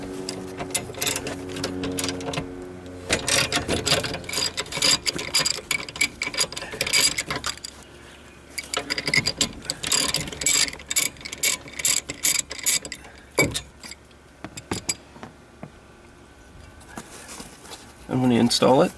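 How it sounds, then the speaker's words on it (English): 13mm ratchet wrench turning a bolt on a Hi-Lift jack mount for a Jeep JK Wrangler, with close, rapid clicking bursts in short runs and brief pauses, and a voice speaking near the end. "Takes a 13mm wrench."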